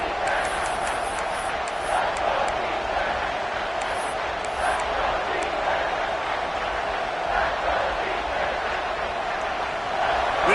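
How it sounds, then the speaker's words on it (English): Football stadium crowd roaring steadily during a timeout in a big moment of the game, a sustained loud wash of cheering and yelling with no pauses, with occasional high whistles cutting through. "This crowd knows they have to bring it in big moments"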